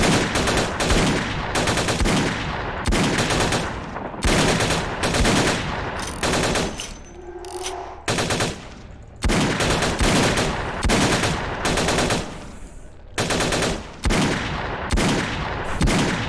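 Gunfire from Tong gang members in Vampire the Masquerade Bloodlines, loud rapid automatic bursts repeating in long volleys with brief gaps between them.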